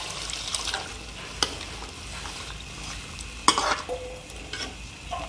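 Steady frying sizzle of soya chilli manchurian fills the clip, with a sharp hiss burst midway as water hits the hot pan, plus occasional stirring clatter.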